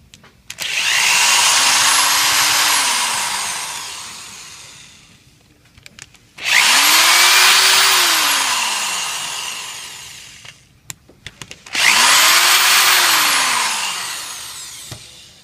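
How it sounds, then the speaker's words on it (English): A power driver whirs through three long bursts as it backs out the three torque screws holding the pump head onto the motor of a 5800 unit, each run rising then winding down, with brief clicks between, loud and close. "So we'll take the three torque screws that hold the pump head onto the motor."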